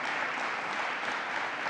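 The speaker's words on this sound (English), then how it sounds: "Let's give yourselves a round of applause as well." Audience applause at a government event on STEM education in New York, heard as a steady, even patter of many hands clapping at moderate volume throughout the short clip, with no talk over it.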